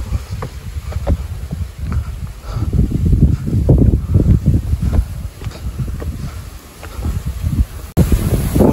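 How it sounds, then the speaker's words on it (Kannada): Wind gusting across an open hilltop at Melukote, a steady blustery roar buffeting the microphone that swells and eases in gusts, close and fairly loud with no talking. "ಗಾಳಿ ಚೆನ್ನಾಗಿ ಬೀಸ್ತಾ ಇದೆ"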